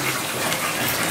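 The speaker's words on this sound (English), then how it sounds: "currently watering her Christmas wreath" Water gushing steadily over a Christmas wreath, a dense continuous close-up splashing rush with no pauses.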